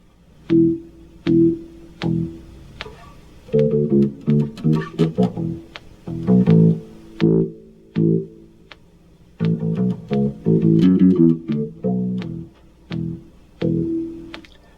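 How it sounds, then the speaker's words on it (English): A bass guitar plays a rhythmic riff through a Boss Auto-Wah pedal, each plucked note swelling with a squelchy, vowel-like filter sweep, loud and alone. "I am using a Boss Auto-Wah for the bass effect"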